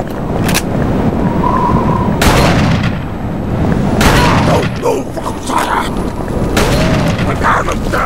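Gunfire in the 2005 horror video game Call of Cthulhu: Dark Corners of the Earth sounds as several loud, booming shots spaced a second or two apart, with shouting voices between them.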